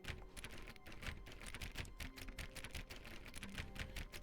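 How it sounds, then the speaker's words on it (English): Rapid plastic clicks of buttons pressed on a game controller during play of The Stanley Parable: Ultra Deluxe, an irregular close-up tapping that runs steadily throughout with no talk. "can you hear me pressing buttons?"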